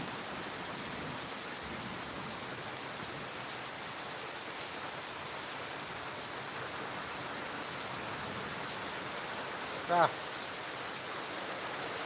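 Heavy rain pours in a steady, even hiss that stays constant throughout, heard from a moderate distance with one brief louder tap near the end.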